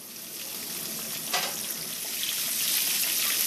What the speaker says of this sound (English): put it into the grease, and fry until brown